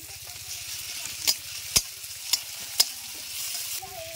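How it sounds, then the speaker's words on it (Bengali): Chopped tomato hits fried onion and garlic in a hot pan, giving a soft steady sizzle with four sharp utensil clacks and light stirring over a faint low hum. "পেঁয়াজ রসুন ভাজা হয়ে গেছে, এবার আমি টমেটো কুচি দিয়ে দিচ্ছি।"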